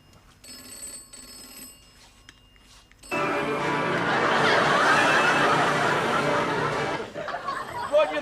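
A telephone bell rings loudly and continuously in an office for about four seconds, with quieter sounds before it and brief murmuring after the ringing stops.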